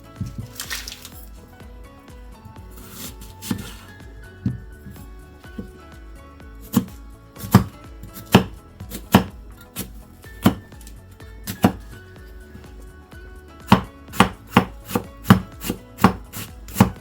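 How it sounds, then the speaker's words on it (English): A medium-sized onion being diced with a knife on a board, a series of sharp, distinct chopping taps that start sparse and grow into quicker, louder bursts of rhythmic cuts, close and clear. "I'm going to do the prep, which is dicing up 1 medium-sized onion"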